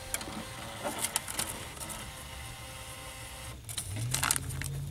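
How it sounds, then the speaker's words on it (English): A Reichert NTC tonometer's built-in thermal printer runs steadily for several seconds, a close, continuous mechanical whir and buzz with a few small ticks, louder toward the end. "It's a thermal printer."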